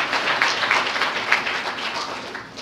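A small business-competition audience gives a judge a brief round of applause, a dense patter of clapping from many hands at moderate distance, fairly steady for a couple of seconds.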